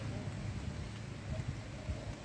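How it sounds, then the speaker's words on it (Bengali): Steady, loud rushing wind of a storm with rain, low rumbling gusts, a continuous roar filling the whole moment with no voices. "বৃষ্টি চলে এসেছে বন্ধুরা, ঝড় উঠে গেছে"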